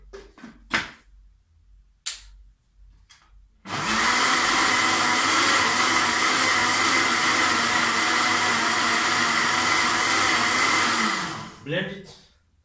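A blender whirs loudly and steadily for about seven seconds, blending okra, ginger and lemon juice into a drink, with a few knocks and clicks before it starts and a brief sound as it stops.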